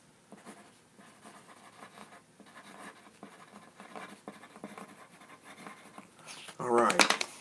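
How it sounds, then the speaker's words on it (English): A pencil scratches across paper in short, soft strokes at close range while someone talks over it, followed by a louder rustle at the end. "Let me write it down. I got a pencil."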